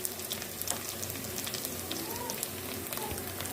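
Garlic, ginger, curry leaves and green chillies sizzle steadily in hot desi ghee for a dal tarka, a close, even crackling hiss with scattered pops.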